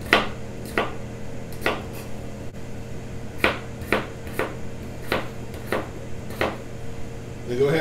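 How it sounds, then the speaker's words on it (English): A knife chops through a potato on a cutting board, cutting it into bite-sized pieces: a dozen or so sharp, close knocks land in an uneven rhythm against a low steady hum. "we'll go ahead and cut up our potato. We wanna make it bite-sized pieces"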